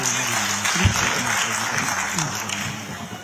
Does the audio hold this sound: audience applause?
yes